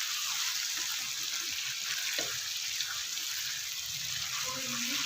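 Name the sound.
mutton karahi frying in a pan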